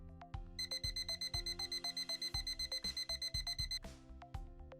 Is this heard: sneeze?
no